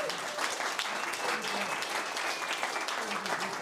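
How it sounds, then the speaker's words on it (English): A crowd at a community tech meetup in Denver gives a round of applause for sponsors. The clapping is steady and fairly soft throughout. "I want to give a round of applause for them too."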